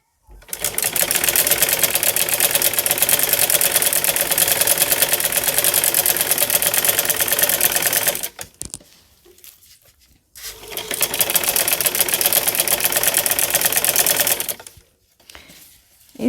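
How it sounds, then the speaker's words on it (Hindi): A sewing machine stitches a fabric neckline in two long, steady, whirring runs separated by a short pause with faint handling noise, close and loud. "इसके ऊपर हम सिलाई लगा लेंगे"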